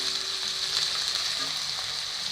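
Green chilies fry in a pan for an okra curry, giving a steady, close sizzle with broadband crackle that runs evenly throughout, with a few faint stirring scrapes and no voices.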